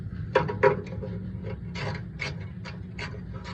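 A small socket wrench works on the little screws of a Traeger pellet grill. Up close come short, repeated ratcheting and scraping bursts, the first two sharper and louder, over a low steady hum.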